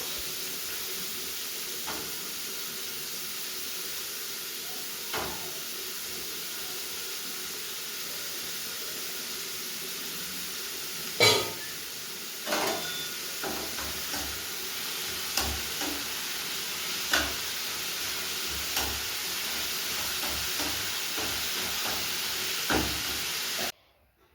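Beetroot, carrot and potato frying in a pan give a steady, moderately quiet sizzle and hiss that runs throughout, broken by a few soft clicks and stirring knocks, with no voices.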